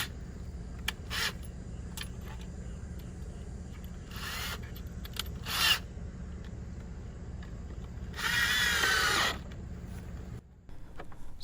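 Power drill pre-drilling a hole in a thin wooden fence board for a gate latch: short bursts of whirring, with one longer, louder run near the end, over a steady low background hum.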